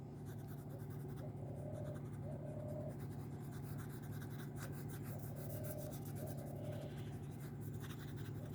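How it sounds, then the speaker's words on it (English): Steady crayon rubbing on paper while colouring the ground beneath a drawing of bamboo poles, a continuous close scratchy rasp with no talk over it. "For the ground, let's use the crayon colors to show"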